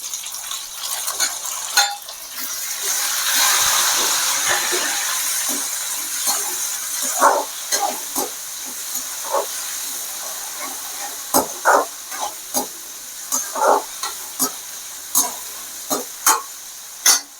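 Tomatoes sauté in a pan for turkey berry curry (sundakkai kuzhambu), with a continuous hiss of frying. Sharp spoon-on-pan clicks and scrapes come at an increasing rate toward the end.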